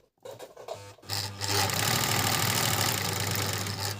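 A Kenmore 158 sewing machine winds thread onto its bobbin, starting with a few clicks and then settling into a loud, steady mechanical whir with a low motor hum.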